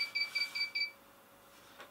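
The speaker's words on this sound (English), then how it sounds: "it makes a beep like the door is opened" A series of five quick, high electronic beeps from a wireless home security alarm's door sensor in a steady rhythm, close and clear, then a faint quiet room.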